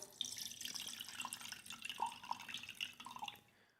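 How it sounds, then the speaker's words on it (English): Water splashing and trickling as it is poured off rice being washed, a steady busy spatter of drips and gurgles for several seconds, close and alone before fading out. "This is rice and you keep on adding the water to it and you keep on washing."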